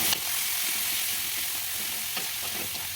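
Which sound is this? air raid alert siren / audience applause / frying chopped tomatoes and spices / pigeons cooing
frying chopped tomatoes and spices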